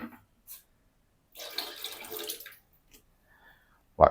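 Water pours briefly into a sourdough dough mix made with supermarket flour, a short splashing stream of about a second, near and moderately loud, followed by faint drips and a sharp knock at the end.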